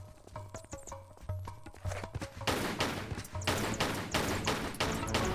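Gunshots fired at a bat in the game Tomb Raider IV: The Last Revelation: a rapid string of sharp pistol shots, sparse at first and then dense and continuous over rhythmic thudding footfalls.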